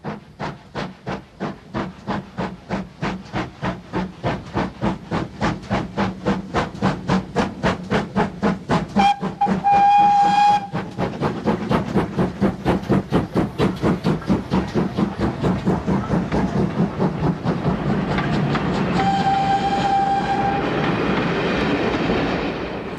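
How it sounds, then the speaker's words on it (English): A steam locomotive hauls a South Devon Railway service train out of Staverton toward Totnes, with fast rhythmic chuffing exhaust beats, a long sharp whistle blown twice and a continuous hiss and rattle of carriages. "Our last view of the city on a service train is departing Staverton for Totnes."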